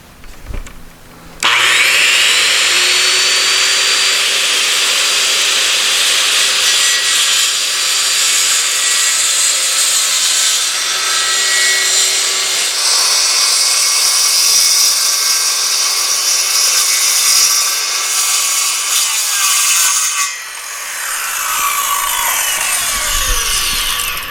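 A power saw, its blade set shallow, cuts through the rotten skin of a cargo trailer door over plywood, giving a loud, sustained whining rasp for about twenty seconds after a brief start-up, then winding down at the end.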